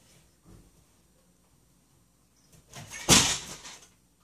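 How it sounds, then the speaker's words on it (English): A cat knocks something off a dresser indoors, a faint bump early on followed by a louder clattering crash and brief rattle that quickly fades in an otherwise quiet room. "that was my kitty cat knocking something off my dresser"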